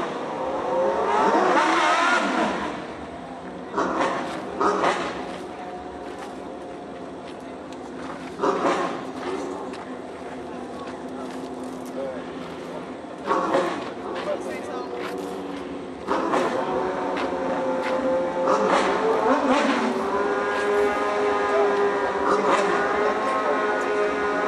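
Two Suzuki GSX-R 1000 motorcycles drag racing rev in repeated loud bursts, rising and falling in pitch over a continuous mechanical roar.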